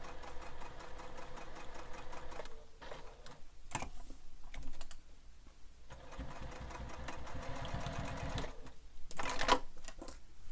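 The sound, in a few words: sewing machine stitching backwards past presser foot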